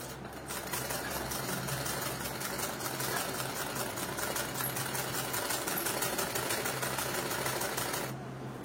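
Sewing machine stitching a pair of pants, a fast steady whirring hum with rapid needle ticking that starts after a brief pause and runs unbroken for several seconds before stopping abruptly near the end.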